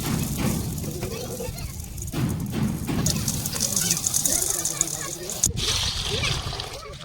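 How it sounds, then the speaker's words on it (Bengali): Chickpeas, mung and masoor lentils are washed together in water, giving continuous close splashing and sloshing, with faint voices in the background. "ছোলা মুগ আর মুসুরির ডাল একসঙ্গে ধুয়ে নিচ্ছি"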